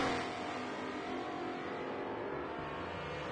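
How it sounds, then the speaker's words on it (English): A twin-turbo V8 race car engine in a racing video game drones steadily with a low, sustained tone, loud and continuous without talking. "I do like that low tone V8. It's a twin turbo V8."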